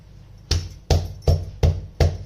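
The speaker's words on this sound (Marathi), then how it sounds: "थोडस ठेसून घ्यायचे म्हणजे ते आतपर्यंत चांगले भाजले जातील चांगले" Whole onions are lightly crushed before roasting over a gas flame for a village-style spicy brinjal dish, giving five evenly spaced, sharp thuds, close and fairly loud, each with a brief dull body.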